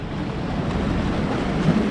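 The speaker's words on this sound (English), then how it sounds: "it has a couple of little waves in it, but it's just a bit too much water" Small ocean waves wash and break near the back side of an island, with steady surf wash and wind noise buffeting the microphone throughout, fairly close and continuous.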